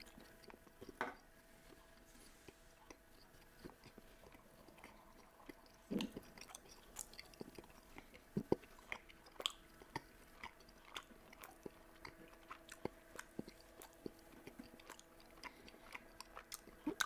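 Close, quiet chewing of Irish stew with soft wet squishes and occasional crunchy bites, scattered irregularly over a faint steady background hum, intimate and near.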